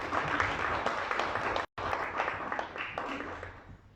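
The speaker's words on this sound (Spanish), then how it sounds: "Un aplauso para la Navidad." Applause from an audience at a Christmas-themed panel discussion, a steady dense wash of clapping filling the whole stretch, broken by a brief dropout midway, with no talk over it.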